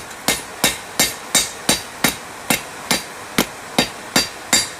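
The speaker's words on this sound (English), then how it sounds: "I'm just going to take over the edge with the cross peen, just kind of fuller that out a little bit." A cross peen hammer fullers the edge of a railroad spike knife with a rams head, striking about a dozen evenly spaced, sharp ringing blows close up, with nothing else heard.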